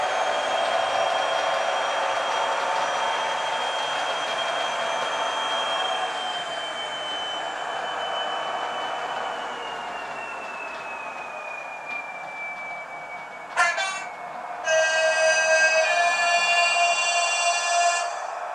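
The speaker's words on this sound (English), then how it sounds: "Both the actual locomotive and the dummy are producing sound." Model HST train on a Roco Z21 DCC layout, with both powered locomotive and dummy car producing sound: a steady electronic engine drone with a slowly falling whine, then a sharp click and a brighter, buzzy horn-like tone near the end.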